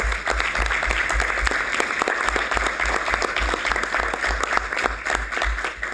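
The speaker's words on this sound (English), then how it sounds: "Let's give them all a round of applause." A steady round of audience applause at a university board of trustees meeting, dense sustained clapping from a crowd throughout, loud and even with no talk over it.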